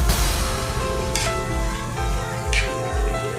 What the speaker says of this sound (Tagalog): At ilalagay niya ang kanyang itlog.